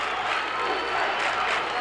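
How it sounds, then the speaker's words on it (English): A large high school basketball crowd of about 2,000 fans at a 1979 Pennsylvania state championship game, chanting and standing, makes a steady, dense roar of voices that holds fairly evenly throughout. "They're chanting defense, and they're standing up."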